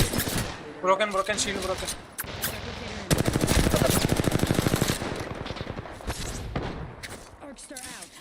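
Rapid automatic gunfire in the video game Apex Legends, loud bursts of machine-gun fire with a sustained volley in the middle, under short spoken callouts from a game voice.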